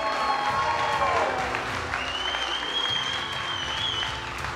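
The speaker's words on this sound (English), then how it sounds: "Can we get a round of applause for that?" Audience applause at a 2024 award ceremony, dense and steady throughout, with a crowd clapping and a little cheering over a faint background hum.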